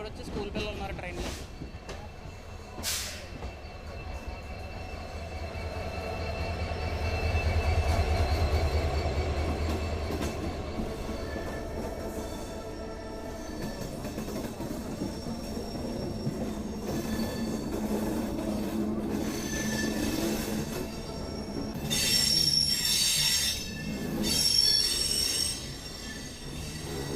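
Rameswaram to Tambaram Express running with steady rolling rumble and rhythmic wheel clatter, rising into loud metallic wheel squeals near the end, heard from inside the coach with faint voices underneath.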